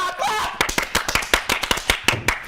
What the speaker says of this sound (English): Clap for Mama! Clap!